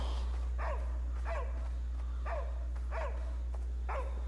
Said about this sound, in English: Dog, you bark one more time